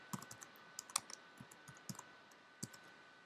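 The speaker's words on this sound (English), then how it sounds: "And I'll click OK." Quiet clicks from a computer mouse come in a sparse, irregular string of small sharp taps close by, with faint background hum and no talking.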